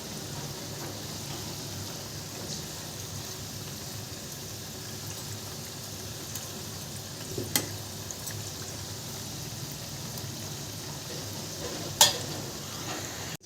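Onion, garlic and ginger paste frying in oil for bottle gourd kofta curry, a faint steady sizzle that runs the whole time with occasional small clicks and one sharp utensil tap near the end.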